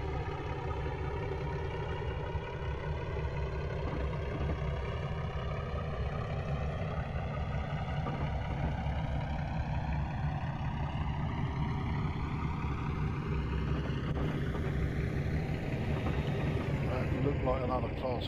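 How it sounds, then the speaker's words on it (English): A Class 37 diesel locomotive engine in Train Simulator Classic drones loudly and steadily, its tone sweeping upward as it revs, with talking over it. "Listen to the engine sound of this thing. The Class 37 is nicknamed the Tractor."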